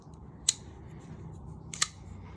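A CRKT Clever Girl folding knife from the Forged by War series, designed by Austin McGlaun, closing with two crisp, sharp metallic clicks about a second apart over a quiet, low background.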